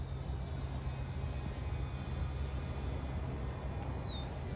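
A radio-controlled micro bush plane on a 3S battery makes a full-speed pass, its electric motor a steady, continuous whine with a brief falling sweep near the end, heard alone outdoors without talk.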